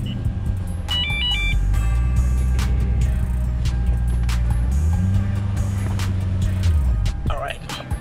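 A Lexus GS430 idles and creeps forward a short distance, its low engine hum steady and close, rising slightly as it rolls, with a few faint beeps and a voice talking over it.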